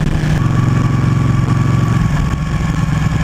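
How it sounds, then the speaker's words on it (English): KTM Super Duke 1290 R V-twin motorcycle engine running steadily with a loud, throbbing low drone, heard up close with no talking. "It's still got bags of character with the engine, the V-twin."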